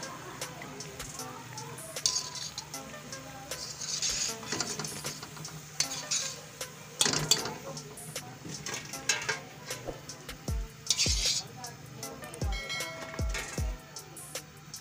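Pakoras fry in a pan and are turned and stirred for kadhi pakora, with a quiet background sizzle broken by scattered clinks and scrapes of a utensil against the pan, a few louder knocks standing out.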